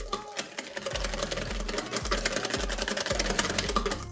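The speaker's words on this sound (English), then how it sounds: "before I add the milk, I'm gonna whisk this up" A whisk beats sweet potato pancake batter with vanilla in a bowl, making quick, regular clicking strokes with rhythmic scraping that keep a steady, moderately close pace throughout.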